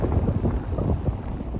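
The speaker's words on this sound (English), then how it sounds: "Sorry, the wind." Gusty wind buffets a microphone outdoors beside apartment buildings, a loud, continuous low rumble with uneven rushes and no voices.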